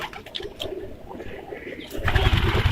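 Fancy pigeons coo in a breeding loft, soft throaty calls repeating close by, with wing flutters and rustling growing louder toward the end.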